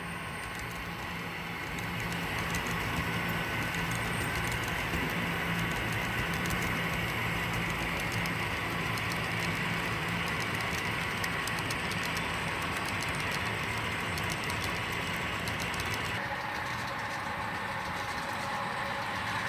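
Kato model train running over Kato track on a layout, a steady low rolling hum with faint mechanical whirring, continuous and fairly even throughout with no talking.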